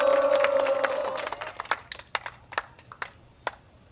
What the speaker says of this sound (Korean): 큰 박수 함성 부탁드립니다